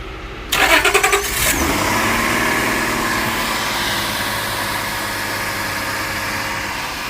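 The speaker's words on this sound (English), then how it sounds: "So now we're going to start the vehicle." An Acura TL 3.2L car engine cranks with a rapid stuttering starter whir for about a second, catches, then settles into a steady, fairly loud idle hum with no voices.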